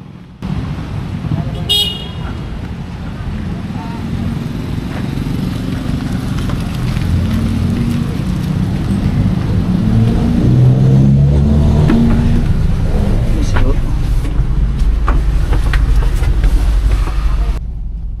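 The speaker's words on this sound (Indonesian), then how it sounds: "sekarang saya udah naik angkot D6 dari Jalan Pesuketan menuju ke Pasar Perumnas" Ride inside a Cirebon angkot D6 minibus, with a steady loud engine drone and road rumble that builds as it accelerates, brief horn toots in the traffic, and murmured voices in the background.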